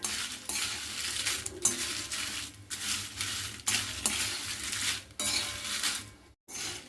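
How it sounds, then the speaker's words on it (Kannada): Chopped chutney-powder ingredients fry in oil in a pan, a steady close sizzle broken by repeated scraping strokes of a spoon against metal, with a brief silent gap near the end. "ಇದು ಎಣ್ಣೆ ಒಳಗೆ ಹಾಕ್ಕೊಂಡು ಹುರ್ಕೋಣ"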